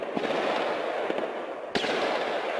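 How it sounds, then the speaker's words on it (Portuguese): Gunfire during a predawn police raid in Saint-Denis, a few dull distant cracks over a broad noisy wash, with one sharper report near the end. "Os tiros começaram às 4h30 da madrugada."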